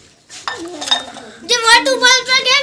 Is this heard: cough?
no